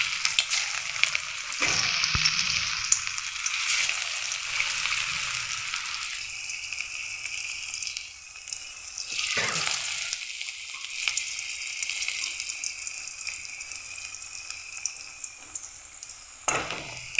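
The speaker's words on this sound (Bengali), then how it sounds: "এবার একে একে আমি এগুলোকে ভেজে নেব।" Cabbage pieces fry in hot oil in a kadai with a close, steady sizzle lasting throughout, broken by a few soft utensil scrapes as the pieces are moved.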